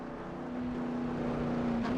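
Race car engines in a NASCAR truck racing video game, a steady droning engine whine holding one pitch and then rising slightly at the end, fairly faint and continuous.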